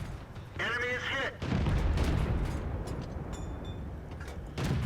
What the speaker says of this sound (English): There's artillery.